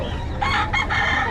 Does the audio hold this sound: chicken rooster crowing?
yes